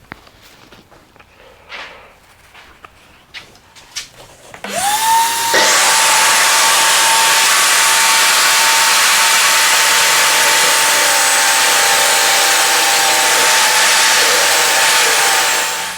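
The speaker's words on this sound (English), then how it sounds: "I've got the table saw dialed in to make the couple of cuts that we need to make" A table saw spins up with a sudden whine and holds a loud, steady high-pitched roar as it cuts wooden boards for a home studio desk, after some quiet shuffling and clicks.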